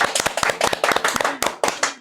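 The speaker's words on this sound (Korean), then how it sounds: "우리 박수 한번 쳐야 되는 거 아니에요?" Clapping from a small church women's group gathered for a live broadcast, sharp close hand claps in an uneven burst of a few people, loud and crisp with short gaps.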